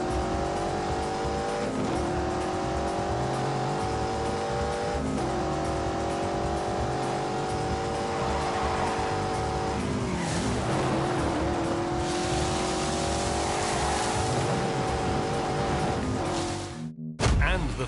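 A BMW 8 Series with four-wheel steering races in The Grand Tour game, its engine droning steadily with rising and falling revs, a gear change and tire squeal midway, and a sudden cut near the end.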